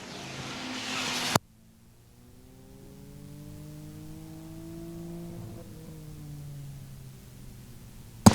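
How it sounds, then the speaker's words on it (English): V6/V8 enduro race cars circle the oval at Star Speedway, with engines droning and sweeping past at a distance, pitch gliding as they pass. A loud burst of noise cuts off at the start and a sharp crack comes at the end. "Jim Walsh in the 4W is trying to reel in Howard Brown Jr. for that second spot"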